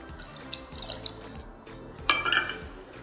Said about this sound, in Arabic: وهحتاج طبعا ميه زي ما قلنا، شفشقه حوالي 1/3 كوب من الميه.